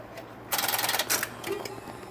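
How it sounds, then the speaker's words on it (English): Electromechanical relays in an old telephone exchange at a phone museum clicking as a number is dialed: a fast, dense burst of rattling clicks for about three-quarters of a second, then a shorter second burst, close and fairly loud. "See if you can watch the relays operate."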